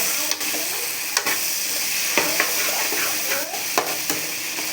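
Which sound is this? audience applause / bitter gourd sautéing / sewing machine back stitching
bitter gourd sautéing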